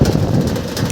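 Steady rain falls under an overcast, darkened afternoon sky, a dense continuous hiss with a low rumbling undertone and no talk, constant in loudness throughout.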